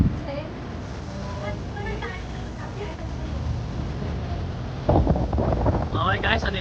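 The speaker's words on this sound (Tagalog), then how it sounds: "Ang lakas na hangin dito guys kasi naka-face sa silangan." Strong onshore wind at Bulabog Beach on Boracay buffets the microphone in a constant rushing roar, growing gustier toward the end, with a person talking over it.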